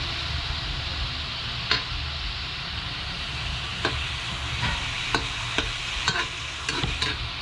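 Bringhe, a Kapampangan rice dish, being stir-fried with fish sauce in a pan, with a steady close sizzle broken by repeated scraping spatula strokes that grow more frequent toward the end.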